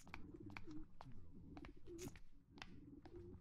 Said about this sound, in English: There's pigeons. Hello, pigeons.